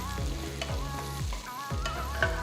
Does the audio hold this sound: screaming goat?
no